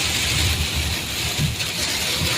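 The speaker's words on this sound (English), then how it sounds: "the rain was coming down thick and heavy and hard" Heavy rain pounding down during a storm near Dubuque, Iowa, a dense, constant hiss with low rumbling underneath, close and loud throughout, without speech.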